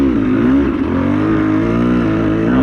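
A Beta 200RR dirt bike's single-cylinder engine revs loud and close in a steady, continuous drone with a slight rise and fall in pitch and no pause.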